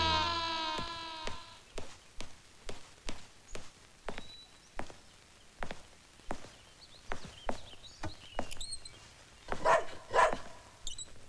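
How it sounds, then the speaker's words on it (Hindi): A dog named Romeo barks in a steady run of about a dozen sharp, evenly spaced barks indoors at a house, fairly close, with a few softer sounds toward the end. "ये रोमियो क्यों भौंक रहा है?"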